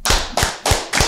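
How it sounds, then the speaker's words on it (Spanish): Four sharp, evenly spaced hand claps ring out close and loud in quick succession. "Un aplauso para él."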